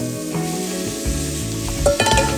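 Meat with capsicum sizzling and spitting loudly in a hot frying pan, a continuous close crackle with stirring scrapes and no talk over it.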